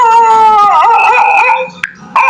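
A man imitates a dog over a video call, giving loud, close, drawn-out howling and yelping tones that rise and bend, then break off into short yips.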